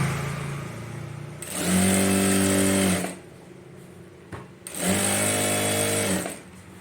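A sewing machine stitches the falls onto a saree in two steady runs, each a loud, even mechanical whir lasting about a second and a half, with a quiet pause in between.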